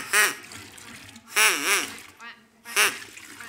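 Ducks at a pond near children's sandpits on Horsell Common give three loud, nasal quack bursts close by, separated by short quiet gaps.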